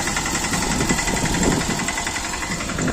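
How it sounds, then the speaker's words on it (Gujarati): A tractor engine runs steadily while a farm field is being tilled, giving a continuous loud rumbling drone with a slight knocking pulse and no pauses or voices. "પૂરી બેન તો ટ્રેક્ટરમાં બેઠા."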